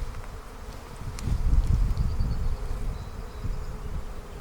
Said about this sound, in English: I see a bunch of worker bees, all female.